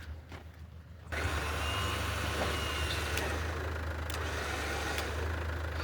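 A truck-mounted winch hoisting a wrecked car, a steady loud mechanical engine drone starting abruptly after a second and running continuously, with faint knocks over it.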